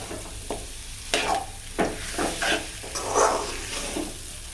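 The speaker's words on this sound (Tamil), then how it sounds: "ஸோ இதை இந்த மாதிரி நல்லா இப்போ மிக்ஸ் பண்ணி விட்டுப்போம்" Potato chicken masala being stirred and mixed in a sizzling pan, with repeated scraping strokes over a steady frying hiss, close and clear with no talking.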